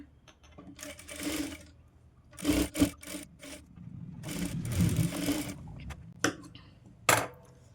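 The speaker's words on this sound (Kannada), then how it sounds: "ಹಾಗೆ ಇನ್ನೊಂದು ಸ್ಟಿಚ್ ಹಾಕೊಂಡ್ಬಿಡೋಣ" A sewing machine stitches a diamond-neck princess blouse in several short bursts of rapid mechanical whirring and clatter, close and moderately loud, separated by brief pauses.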